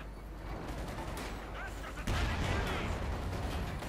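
.50 caliber machine gun fire in Company of Heroes 2, a dense, steady rattle of gunfire with a louder surge of battle noise midway.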